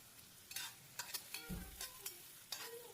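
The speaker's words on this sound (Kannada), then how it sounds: "ಈ ರೀತಿ ಈರುಳ್ಳಿನ ನಾವು ಫ್ರೈ ಮಾಡ್ಕೋಬೇಕಾದ್ರೆ" Onions fry in oil for a chicken gizzard and liver gravy, a quiet low sizzle broken by repeated scraping strokes of a spatula stirring the pan.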